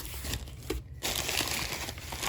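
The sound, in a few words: crumpling packing paper while unboxing Simplex 2902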